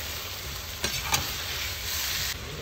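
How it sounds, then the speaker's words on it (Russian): Onions, carrots and tomatoes cook in a kazan over a campfire, a steady frying sizzle broken by two short scraping stirs before the sizzle carries on alone. "Теперь добавляю морковку и помидоры. Тоже все перемешиваю."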